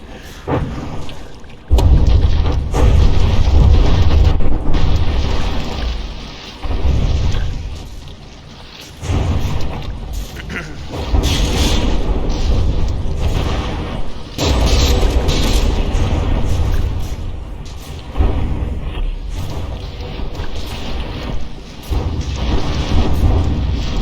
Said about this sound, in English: Now those mortars are once again having some issue landing.